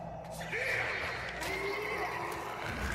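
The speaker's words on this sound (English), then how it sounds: "That horse got bad timing" A horse neighs in the samurai game Trek to Yomi, a drawn-out whinny of a couple of seconds over a muffled, rumbling background of ambient game noise.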